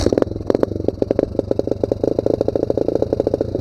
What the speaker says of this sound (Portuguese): deixa eu ligar a moto dele e a gente vai junto